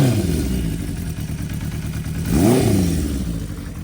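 Loud, close rumble of a Honda CB550 four-cylinder motorcycle engine through a 4-into-1 aftermarket exhaust, idling with a deep burble and then a brief rev that rises and falls.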